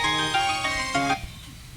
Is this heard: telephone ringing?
yes